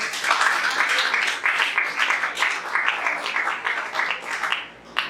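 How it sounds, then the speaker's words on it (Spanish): Warm applause from a church congregation at a Bible study, greeting Dr. Luis Eduardo Isabel; a crowd claps steadily for about five seconds before the clapping thins and fades near the end. "Un fuerte aplauso, por favor."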